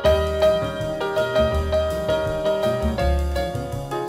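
Solo jazz piano playing a piece, its second section built on repeated block chords with a steady rhythmic pulse and bass notes, clear and close with no voices.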